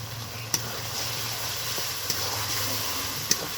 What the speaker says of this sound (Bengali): তো এই মশলাটা খুব ভালো করে কষিয়ে নেব